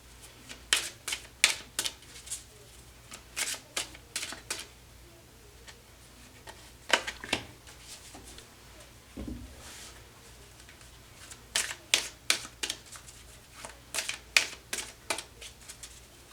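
Tarot cards being shuffled by hand, bursts of quick riffling and flicking clicks that come in short clusters with pauses between them, fairly quiet and close, with no talking over them.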